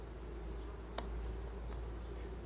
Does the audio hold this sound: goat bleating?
no